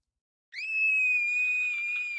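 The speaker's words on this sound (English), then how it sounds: "As a child star, Barbara was famous for her scream." A child star's signature scream from the video game What Remains of Edith Finch: a shrill, sustained, high-pitched scream that bursts in after half a second of silence and holds steady, loud and alone, for nearly two seconds.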